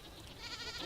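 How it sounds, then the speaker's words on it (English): Goats bleat in the survival game Vintage Story, a soft cluster of wavering game-animal calls at a modest level with no talk over them. "What are you goats up to?"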